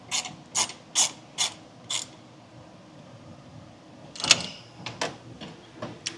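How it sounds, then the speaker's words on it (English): Small screws being backed out of the lid of an oil catch can on a 2019 Ford Ranger, a run of short sharp ratcheting clicks, then a pause and another cluster of quieter clicks, up close. "take the little screws out of it"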